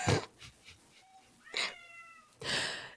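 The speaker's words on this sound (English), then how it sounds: "If you guys can hear my cat, I apologize. I can't get him to stop." A cat meows repeatedly at close range, several drawn-out cries of varying length with short pauses between them.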